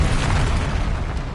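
Confringo fire-blast spell explosion in the video game Hogwarts Legacy, a loud, dense, roaring boom that fills the whole short span with rumbling, crackling blast noise and no voices.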